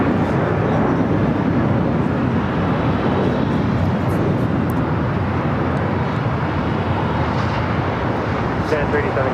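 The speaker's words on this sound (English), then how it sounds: "Atlas Air is going to be following an Air Canada 787-8 Dreamliner coming from Montreal" An Air Canada Boeing 787-8 Dreamliner arriving from Montreal at LAX, its jet roar a steady broadband rumble that stays fairly distant and constant, with no talk over it.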